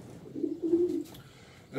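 Pigeons from a breeding loft coo in a low, soft warble lasting about a second, close by, followed by a brief rustle.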